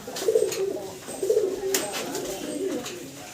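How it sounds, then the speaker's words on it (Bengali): A male pigeon gives repeated low, throaty coos in close rhythmic bursts, each rolling call swelling and fading in turn. "নটটা ডাকাডাকিতে ব্যস্ত আছে"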